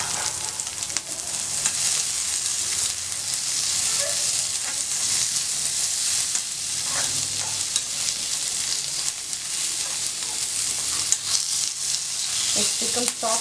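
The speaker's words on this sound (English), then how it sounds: "So let us slightly roast them." Ingredients for a crab green masala roast in a hot pan with a continuous, even sizzle and hiss, broken now and then by faint stirring scrapes.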